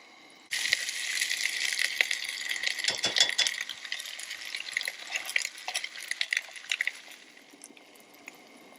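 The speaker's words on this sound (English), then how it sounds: "Alright, I got my corned beef hash opened up, got the stove hot and cooking. Now let's get it on the pan." Canned corned beef hash drops onto a hot pan on a stove and fries with a sudden sustained sizzle that crackles and scrapes, then slowly fades quieter toward the end.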